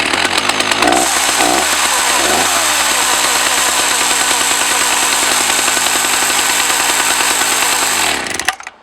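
A Husqvarna 380 chainsaw fitted with a Husqvarna 65 ignition system roars loud and close, revving up in a few bursts, then holding a steady high whine while cutting before it cuts off abruptly near the end.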